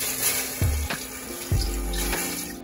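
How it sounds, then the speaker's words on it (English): A cup of water poured into a pot of chicken stew on the stove, splashing and gurgling in short bursts, close by and without talk. "And a cup of water."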